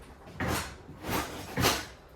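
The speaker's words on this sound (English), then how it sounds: "the drawer stuck." A stuck kitchen drawer is yanked three times in quick succession, each pull a short, loud scraping rattle of wood, close by with no talk.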